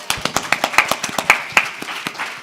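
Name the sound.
audience applause for panelist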